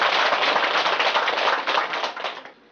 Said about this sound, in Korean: 대만님한테 박수 한번 주세요